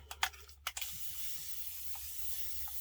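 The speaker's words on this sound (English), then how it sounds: "Spray it with some water." Two quick spritzes of water from a spray bottle onto a pumice-textured surface come at the start, then a soft steady hiss lingers, quiet and close.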